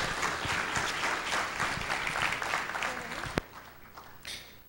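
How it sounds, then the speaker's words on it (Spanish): Sustained applause from an audience at a Spanish-language talk, steady clapping filling the room with a voice over it, then fading out near the end. "Un aplauso, por favor, para Andrea."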